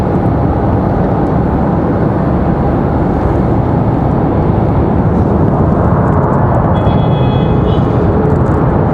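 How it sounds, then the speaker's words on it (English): A steady, loud, broadband jet roar from a JetBlue Airbus A320 taxiing at Raleigh-Durham airport, continuous throughout with a faint whine near the end and no talking. "JetBlue, that A320 from San Juan, Puerto Rico, about to make its way around the corner."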